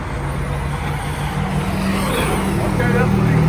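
A Traxxas Hoss RC truck on a speed run gives a loud, steady motor roar that builds slightly toward the end, with a low drone underneath.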